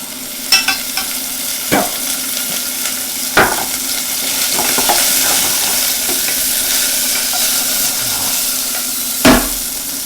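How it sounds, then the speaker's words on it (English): Jalapenos sauté in a hot pan with a steady, loud sizzle, broken by a few sharp utensil scrapes and taps against the pan; no one speaks. "I'm going to kind of saute a few jalapenos"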